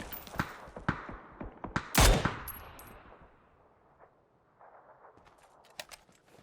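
Gunfire from the video game PUBG during a pro scrim match, scattered sharp shots and short bursts, one heavier blast near the middle, fairly faint overall.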